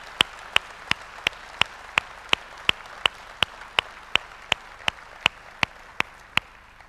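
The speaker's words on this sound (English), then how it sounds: "we owe a big round of applause to Dusty Green" Slow, evenly spaced single claps, about twenty in a row, crisp and fairly quiet, keep a steady rhythm at a business presentation tribute, with no voices over them.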